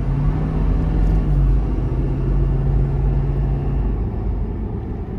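A 2023 Ford F-250 XL with the 6.7 Powerstroke diesel accelerates on the road, a steady low rumble with a droning engine tone that shifts as it pulls, heard from inside the cab with no talking.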